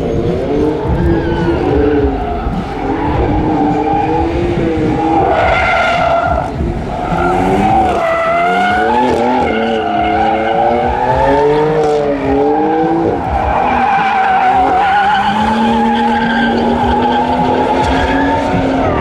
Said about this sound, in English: Out here, Continental and BMW are doing like this little like drift thing.